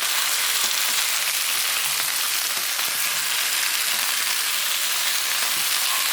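Chicken wings for Chinese BBQ wings fry and brown in a pan, giving a steady, even sizzling hiss throughout with no voices.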